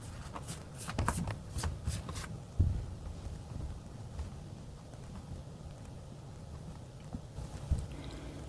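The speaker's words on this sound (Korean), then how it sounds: "카드를 뽑아보도록 할게요" Tarot cards are shuffled and drawn, giving soft riffling flutters early on and then faint sliding and tapping, close but quiet, over low room noise.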